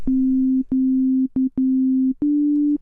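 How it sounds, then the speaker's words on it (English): A plain, pure sine-wave synthesizer tone at one low pitch, played as five sustained notes separated by brief clicks and gaps, the last slightly higher. "It's just a sine wave, nothing special."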